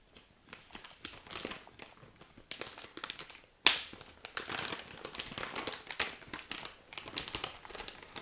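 Crinkly plastic packaging of a British military ration pack is handled and torn open, a steady crackling with one sharp rip partway through, close and fairly quiet.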